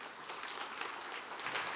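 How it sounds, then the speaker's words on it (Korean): Audience at a Korean business concert-style lecture event applauds, a soft, dense patter of clapping that holds steady and sounds somewhat distant for under two seconds, with no voices over it. "조이남 대표님께 박수 부탁드리겠습니다."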